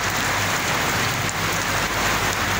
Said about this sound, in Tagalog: Lakas ng ulan, umuulan.